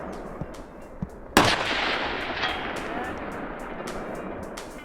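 A precision rifle at an outdoor shooting range fires one loud, sharp shot that rolls into a long echoing decay, with faint voices and small knocks before it.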